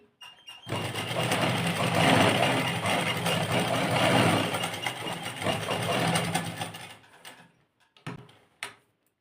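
Sewing machine running steadily while stitching a V-shaped suit neckline, a continuous close mechanical whir lasting several seconds before stopping, followed by a few short bursts.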